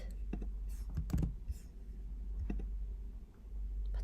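Someone types a verification code on a computer keyboard, producing a handful of soft close key clicks in two short bursts over a steady low background hum, with no voices.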